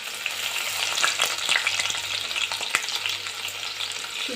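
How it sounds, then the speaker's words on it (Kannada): Green chillies sizzle in hot oil in a pan for dal khichdi, a continuous close crackle with scattered pops and stirring clicks and no talking. "ಹಸಿಮೆಣಸಿನ್ಕಾಯಿ ಹಾಕೋತಾ ಇದ್ದೀನಿ"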